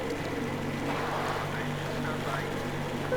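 In Metro Exodus, a boat engine drones steadily and evenly at close range. Faint voices drift over it.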